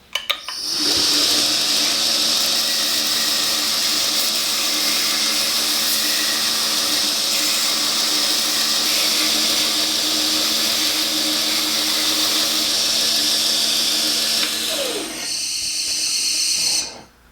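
A power tool grinds steadily while shaping a knife handle, a loud continuous whine held for about fifteen seconds before it winds down and briefly restarts near the end.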